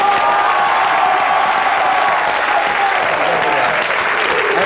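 Studio audience at the French TV show Nulle Part Ailleurs in Paris applauds steadily and loudly for a metal band, a dense wash of clapping with scattered cheers and a faint whistle-like tone running through.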